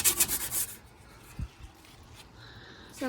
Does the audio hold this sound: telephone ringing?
no